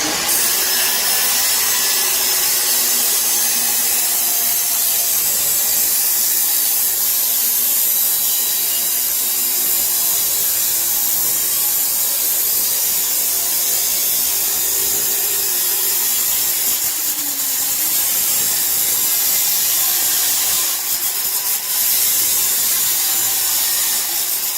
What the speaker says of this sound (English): We're going to cut this reducer flange in half so we can shorten it some. We're going to do it with the chop saw.